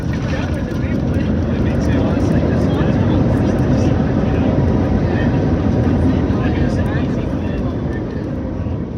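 A United Airlines Airbus A321neo taxiing to the gate, heard from inside the cabin as a steady, loud engine and airframe roar that holds unbroken throughout, with talk beneath it.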